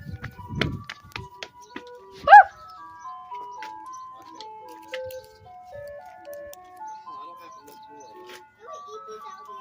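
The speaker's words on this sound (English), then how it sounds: "I love that song. I love this ice cream truck." An ice cream truck's tinkling melody plays steadily in the distance as a thin music-box tune, with a brief loud voice and knocks early on.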